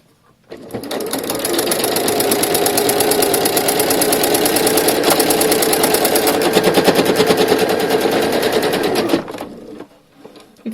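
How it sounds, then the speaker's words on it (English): A sewing machine runs a straight stitch along stretch fabric with a walking foot, a steady rapid mechanical rattle that starts after a short pause, holds for about eight seconds close up, then stops abruptly. "I'm going to stitch using a straight stitch"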